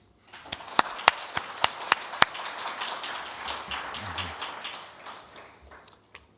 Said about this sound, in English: I'd just like for all of us to give a round of applause to Lisa, Kara, and the whole team.